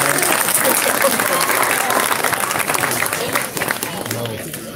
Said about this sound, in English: just like to give him a round of applause on the performance there today